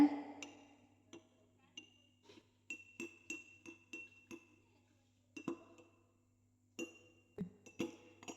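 Spoon stirring palm sugar into a drink in a glass: a series of bright clinks and taps against the glass, spaced irregularly in bursts, close and clear with no talking.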